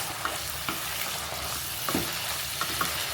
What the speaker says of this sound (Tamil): அப்படியே இது இப்படியே வதங்கினே இருக்கணும்